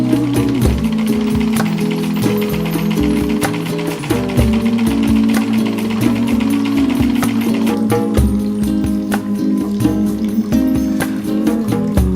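Sewing machine running continuously at home, a loud rhythmic mechanical clatter of stitching with steady pulsing beats throughout.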